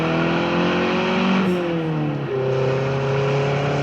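Sports car engine in a 1977 Bond film chase roars steadily and loud, its pitch shifting as it revs and changes gear, with a whirring drone throughout and no talk.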